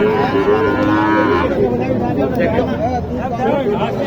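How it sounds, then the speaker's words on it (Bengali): Sahiwal cattle at a busy rural cattle market in Naogaon, with one loud, drawn-out moo near the start over a constant murmur of crowd chatter and people talking. "সুপ্রিয় দেখেন একটা সাইওয়াল আর একটু পিছনে আনেন তো"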